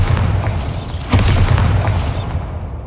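A Bombarda spell goes off in Hogwarts Legacy with a loud, booming explosion about a second in, sitting on a dense, rumbling low bed that carries on steadily to the end of the clip.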